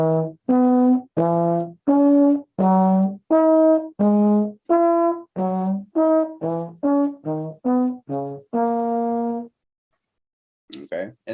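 A trombone plays a scale in sixths starting from the root: about seventeen separate notes, some short and others held, in a steady rhythm, loud and close, finishing on a longer note followed by a brief silence and a faint noise.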